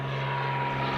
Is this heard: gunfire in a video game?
no